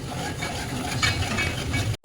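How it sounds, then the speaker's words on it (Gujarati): A hot metal spoon stirring mango curry with jaggery in a pan, giving a steady scraping and bubbling stir close up, with faint sizzle, cutting off abruptly at the end. "વળી આ ચમચો ગરમ થઈ ગયો છે તો વળી પાછું આપણે હલાવવાનું ચાલુ કરીએ ને"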